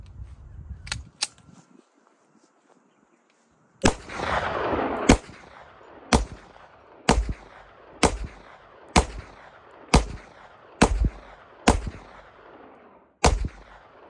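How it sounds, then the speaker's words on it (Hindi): A chrome Zigana F 30 bore pistol is test fired outdoors. After a couple of early sharp shots and a pause, about ten loud, close gunshots follow at a steady, roughly one-second pace, and each one rings out and decays. "दोनों मैगजीनों से हम टेस्ट फायर करेंगे"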